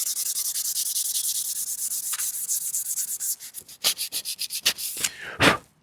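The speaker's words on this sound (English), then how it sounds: "Basically what I'm doing now is getting the rust, but I'm also in the process of dulling the blade." Steady abrasive scrubbing as rust is rubbed off a knife blade, a continuous hiss that breaks into quicker, separate back-and-forth strokes toward the end. Close and fairly loud, with no talking.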